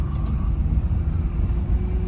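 A stock Nissan GT-R out on a test drive, heard from inside as a steady low engine drone and road rumble, brief and unvarying, with no talking.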